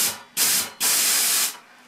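Nitrous bottle purge on a 1983 Volkswagen Rabbit GTI fitted with a NOS Wizards nitrous system: two sharp, loud gas hisses, a short burst followed by a longer blast of about seven-tenths of a second, both close.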